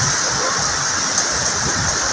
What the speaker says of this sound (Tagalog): Malakas ang ulan, mapilis na puno yung mga kanal.